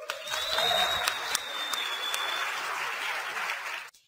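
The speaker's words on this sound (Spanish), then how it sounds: "Un aplauso por eso." An audience bursts into sustained applause, a dense wash of clapping that holds steady for several seconds with a few sharp individual claps standing out before it cuts off abruptly.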